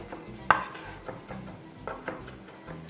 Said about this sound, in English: I'll get back to chopping my garlic where I'd left off